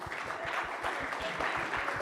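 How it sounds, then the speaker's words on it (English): An audience applauds a speaker arriving at a conference lightning-talk session: a steady wash of clapping holds for the whole two seconds, with a regular low thumping running underneath. "Let's give them a big round of applause when they run in."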